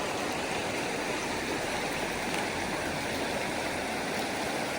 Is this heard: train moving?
no